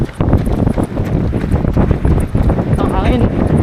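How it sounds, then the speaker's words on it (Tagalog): Strong wind buffets the microphone during a half-marathon run in Taichung, a loud, constant gusty roar with footfalls and a voice speaking over it. "Ang hangin."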